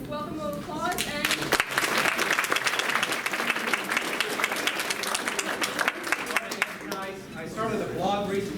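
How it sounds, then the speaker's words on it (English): Audience applauding to welcome speakers at a beer talk, dense crowd clapping that rises quickly, holds, then thins, with a few voices briefly heard at the edges. "Would you guys all give them a welcome of applause?"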